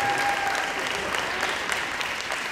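Applause for a senior volleyball player on a high school senior night. The clapping is dense and steady, filling the whole stretch at an even level, with a faint whistle-like tone early on.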